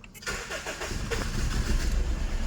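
A Honda Civic FD with a shaking-engine fault cranks briefly and fires up, settling into a loud, close, steady idle rumble.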